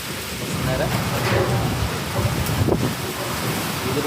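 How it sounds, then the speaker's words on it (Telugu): Heavy hailstorm rain with strong gusting wind in summer, a loud dense roar of rain and hail pounding surfaces up close, wind buffeting throughout with a faint rumble. "వడగండ్ల వర్షం గాలి అయితే భయంకరంగా ఉంది"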